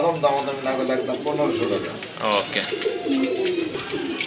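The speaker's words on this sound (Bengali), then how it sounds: "আরেক জোড়া কবুতর এখানে এই যে দেখেন ম্যাকপাই কবুতর" Low cooing of magpie pigeons runs beneath someone speaking, with other bird calls scattered through the background.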